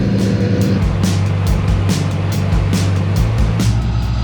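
A tractor engine idles and runs steadily at a harvest weighing of winter wheat and rapeseed on a demo field in Poltava region, a loud constant low rumble with rhythmic pulsing throughout.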